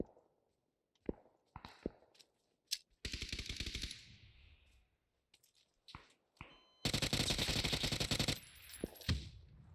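Gunfire from the video game PUBG on the Taego map comes as two loud bursts of rapid automatic fire between scattered single shots and soft footstep-like clicks.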